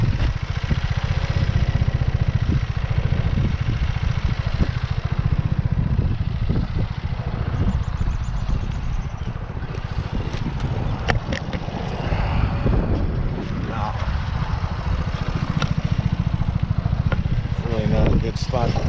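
A BMW C400 scooter engine runs steadily while riding, a low continuous drone mixed with wind rush, with a rider talking over it throughout.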